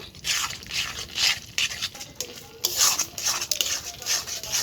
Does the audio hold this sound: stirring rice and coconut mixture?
yes